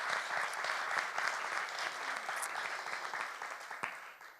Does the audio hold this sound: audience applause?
yes